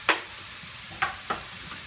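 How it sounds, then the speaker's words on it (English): Kielbasa sausage sizzling in a pan as its fat renders, with three short crisp pops or stirring scrapes spaced about a second apart over a faint, quiet background. "You can see that fat rendering out of the kielbasa."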